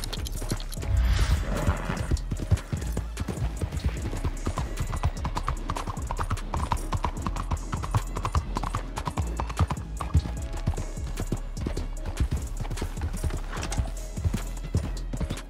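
Horse hooves clip-clop steadily at a gallop in the Red Dead Online video game, a loud continuous rhythmic drumming with a brief neigh early on, alone without talk.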